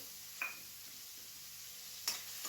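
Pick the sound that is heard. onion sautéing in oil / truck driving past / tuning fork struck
onion sautéing in oil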